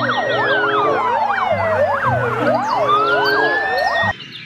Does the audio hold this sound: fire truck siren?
yes